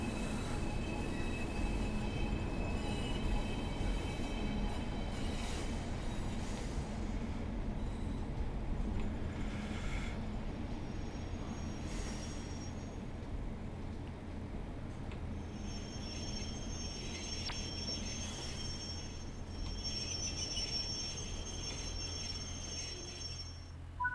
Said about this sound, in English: I think we just missed a train.